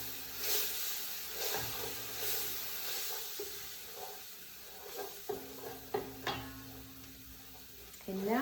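A soy sauce mixture for mushroom bourguignon sizzles in a pan while a spoon stirs it, close up, with soft scraping and a few sharper clinks. There is no talking.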